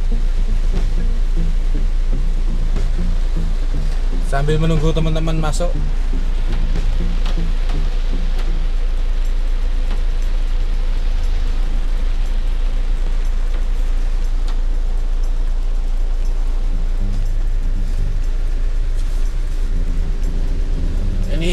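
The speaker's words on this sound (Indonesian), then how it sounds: "Hujan ya, hujan." Steady rain drums on a moving Toyota Avanza 1.3 as a constant even hiss under a low road rumble, broken briefly by a short spoken line partway through.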